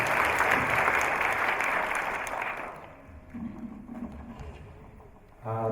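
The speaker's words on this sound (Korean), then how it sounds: "다시 한번 뜨거운 박수 부탁드리겠습니다" A crowd at a talk concert claps loudly and steadily, then the applause dies away into quieter room noise with faint murmuring.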